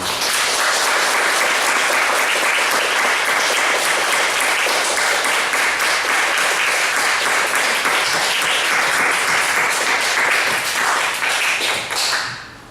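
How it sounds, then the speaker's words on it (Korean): A church congregation applauds at a Korean Easter Sunday service: dense, steady clapping from many hands fills nearly thirteen seconds at full strength, then tapers off sharply at the very end. "영광의 박수 올리겠습니다"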